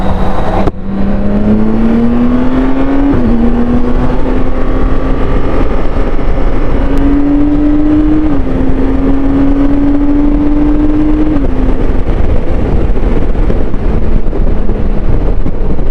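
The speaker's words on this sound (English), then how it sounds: "What a refined motorcycle, putter smooth, and the power delivery is so linear, it gets to those speeds effortlessly" A BMW K1600 GTL motorcycle pulls hard at speed, its engine note climbing smoothly and dropping briefly at each gear change before rising again, with steady wind rush over the whole ride.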